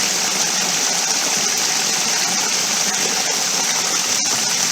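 A waterfall and natural stream at a riverside campsite in Infanta, Quezon produce a loud, constant broadband rush of falling water that fills the whole clip without pause.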